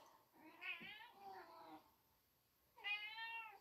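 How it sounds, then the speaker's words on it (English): A house cat meows twice during a yoga session, two drawn-out, clear calls separated by a short pause, close by and fairly loud. "And here comes my kitty."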